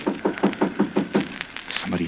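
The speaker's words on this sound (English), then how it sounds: "Somebody at the door." Knocking on a door as a radio drama effect: a run of about eight evenly spaced raps, fairly close, then a short pause.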